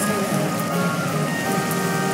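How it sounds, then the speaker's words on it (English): Acid rain in the Roblox Natural Disasters game as a steady dense hiss of falling drops pattering on surfaces, continuous and even throughout, with faint tonal game sounds underneath. "Acid rain."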